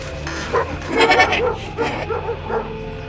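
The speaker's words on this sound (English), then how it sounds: "What's happening with those dogs?" Dogs barking out in a field during an audiobook drama, a cluster of rough, yelping barks over several seconds beneath a bed of background noise.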